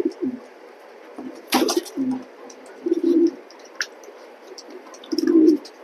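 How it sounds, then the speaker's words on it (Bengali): A pair of racing pigeons coo close by in low, throaty bursts, four or five of them spaced unevenly, with a few faint chirps and a short rustle between. "কবুতরটা খুবই সুন্দর পেয়ারটা"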